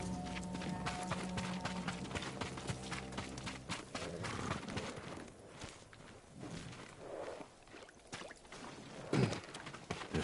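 Samurai horses at a stable in a video game, hooves clip-clopping in steady walking rhythm amid background game music and ambient noise, fairly close.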